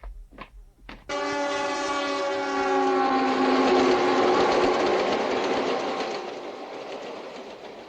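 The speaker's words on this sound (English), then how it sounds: "Train number 99, the Coast Daylight from Los Angeles, now arriving in San Francisco on track number 10." The Coast Daylight passenger train from Los Angeles pulls into San Francisco in a 1969 film scene: two short blasts, then a loud sustained horn chord over rumbling, clattering wheels that gradually fades.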